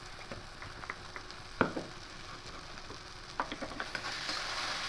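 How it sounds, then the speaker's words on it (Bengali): Fish in mustard paste gets mixed in a pan, soft sizzling under a series of light taps and scrapes from a spatula, with a quiet steady frying hiss. "খুব ভালো করে মিশিয়ে নিয়েছি।"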